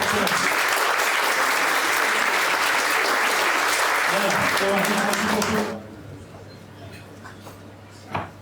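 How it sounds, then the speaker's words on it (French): A ceremony audience applauds a new father at a governor's handover event: loud, sustained clapping runs about five and a half seconds under a speaking voice, then cuts off abruptly, leaving quiet room tone and light talk. "on peut l'applaudir, le Jeune Papa"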